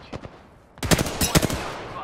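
Bursts of video game gunfire in a squad shooter, starting with a couple of faint distant shots and then rapid, loud, close automatic volleys with a voice murmuring faintly underneath.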